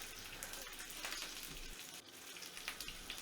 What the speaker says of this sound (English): We're going to start searing this with the seam side down because that'll kind of cause the seam to adhere a little bit better.